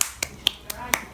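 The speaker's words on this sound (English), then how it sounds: "Clap your hands for yourself." A few sharp, evenly spaced hand claps, about five, ring out close and distinct with quiet gaps between them.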